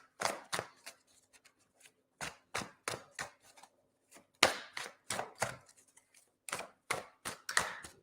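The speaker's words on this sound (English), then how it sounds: "Just giving these a good shuffle." Tarot cards are shuffled in quick, crisp riffling bursts, separated by short pauses, close and fairly loud, with no talking.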